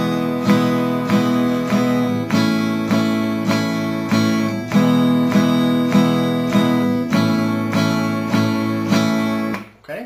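Acoustic guitar strummed with steady downstrokes on all four beats at 100 beats per minute, an even, loud rhythm of chord strums sustained for about ten seconds with no talking.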